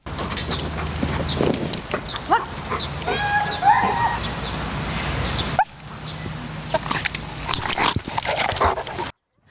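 Emergency-service rescue dogs in Kropyvnytskyi, trained to find people under rubble, bark repeatedly during search practice with a toy ball, while a rooster crows and other farmyard noise carries in the background.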